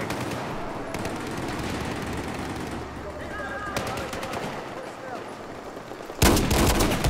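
Gunfire from the QBS-09 shotgun in Battlefield 4 sounds over a constant wash of battlefield noise, with repeated sharp reports and a loud blast close to the end.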